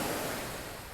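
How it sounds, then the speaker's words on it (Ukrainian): Sea surf washes in as a steady, broad wash of breaking waves with some wind, continuous and fairly loud with no voices over it. "Море, це шум моря"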